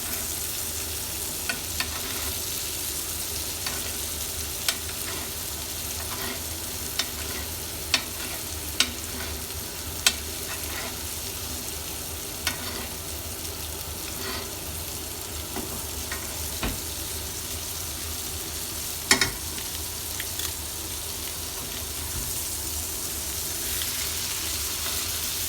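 Sous vide steak sears in a very hot pan with loud, continuous sizzling and frying, with occasional sharp pops and spoon clinks from basting.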